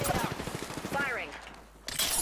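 Rapid gunfire in the video game Apex Legends, a fast burst of shots at the start and another burst at the end, heard under a player talking.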